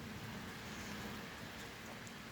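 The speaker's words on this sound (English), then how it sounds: "It's really just raining a little." Light rain falls outdoors in a town as a faint, even wash of steady hiss with no distinct drops or other events, and nobody talks.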